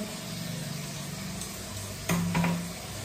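Cut pieces of fish and small bata fish fry in a pan with a steady, soft sizzle and stirring, followed by a brief louder burst of clatter and spitting oil near the end.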